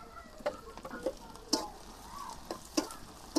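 Cumin seeds hit hot oil in a frying pan on a new stove and crackle and sizzle, with several sharp pops and spatters over a low frying hiss, close by and without talk.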